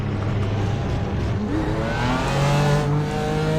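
A BMW race car in the iRacing simulator revs up through the gears, its engine note climbing steadily and loud with a rough, droning tone, tires faintly hissing beneath.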